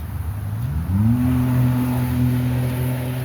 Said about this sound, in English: That's a Ford car going whoom.